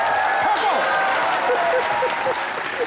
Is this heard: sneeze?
no